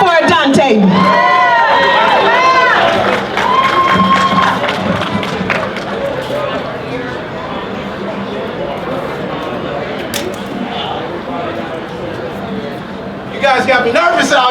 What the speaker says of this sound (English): Clap it up for everybody out here.